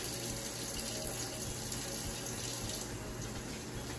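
Warm tap water flows steadily into a kitchen sink during handwashing before food prep, a constant, close hiss and splash with no pauses or talk.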